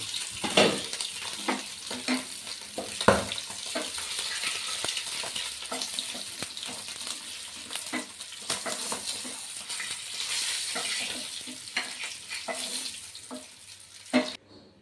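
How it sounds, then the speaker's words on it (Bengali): Oil sizzles and crackles steadily in a covered pan of frying eggs, with irregular pops and spatters over a soft hiss, close by and fairly quiet. "ডিমগুলো আমি ঢাকা দিয়ে ভেজে নিচ্ছি।"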